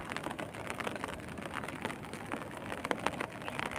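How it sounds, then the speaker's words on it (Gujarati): Steady patter of light rain falling on a surface nearby in a village, with scattered louder drops and a soft background wash, no talking. "વરસાદ રહેતો નથી જેવા તેવા સાટા શરૂ છે અત્યારે એટલે છત્રી લઈને આવી ગયો છું"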